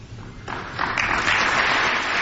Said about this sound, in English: No one knows when to applaud.